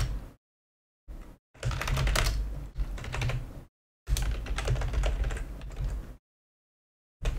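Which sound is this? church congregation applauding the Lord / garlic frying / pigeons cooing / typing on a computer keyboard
typing on a computer keyboard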